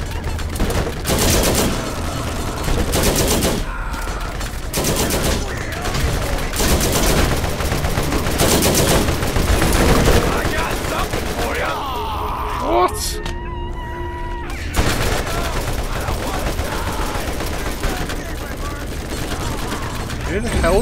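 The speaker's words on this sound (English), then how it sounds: "No, I'll suppress fire for you." Sustained rapid gunfire in a Borderlands co-op shooter, with loud, dense bursts that barely pause, while voices talk over the shooting.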